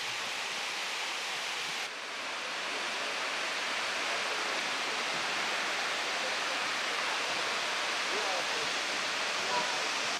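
Hongje waterfall in Seodaemun, Seoul, pouring as a dense steady hiss of falling water, even and continuous without a break.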